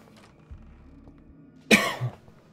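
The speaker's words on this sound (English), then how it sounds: "I'd also like to apologise for my constant coughing." A single harsh cough bursts out loud and close in an otherwise quiet room, with a faint low rumble of background sound before it and a short throat noise trailing after.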